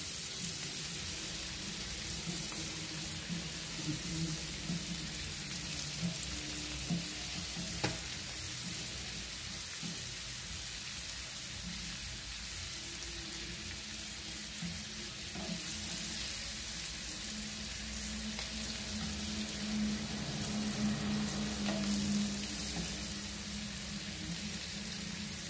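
A vegetable egg sizzles steadily in a frying pan as it is flipped, a continuous hissing fry with occasional soft clicks from the utensil, no talk.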